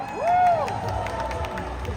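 A crowd at a ceremony welcomes a guest with a broad wash of applause and cheering, topped by one rising whoop early on, then continuing as a steady clapping roar.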